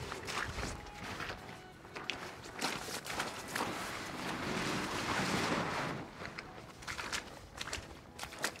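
Wind gusts buffet a Frabill Fortress XL ice shelter outdoors, a broad, rushing roar that swells and fades over several seconds, mixed with rustling fabric and crunching steps nearby.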